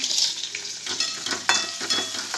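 Onion, peanuts and green chilli fry together in a pan for poha, a bright, close sizzle with a few quick spatula stirs cutting through the hiss.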